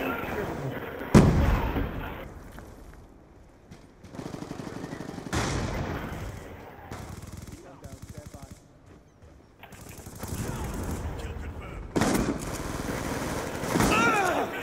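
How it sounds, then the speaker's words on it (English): Hellstorm missile strike in Call of Duty Black Ops 2: heavy explosive blasts and bursts of gunfire come in waves, with a loud impact early on and further booms later, under intermittent in-game voice callouts. "Hellstorm missile inbound."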